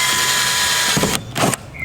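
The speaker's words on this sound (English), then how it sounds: "Let's get my drill." A power drill bores speaker holes into an interior panel of a 1982 Ford Capri, a loud close whine running steadily, then stopping and restarting in short bursts.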